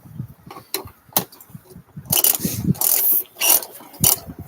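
Tightening the clamp on a pool filter housing produces irregular ratcheting clicks and metallic clanks, close and loud, in bursts with pauses between.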